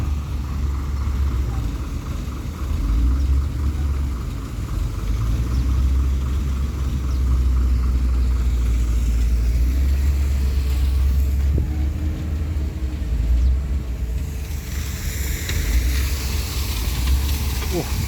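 Constant low engine rumble and hiss as trucks come into a sand and gravel pit, a steady idling drone that barely changes, with a brighter rushing swell toward the end.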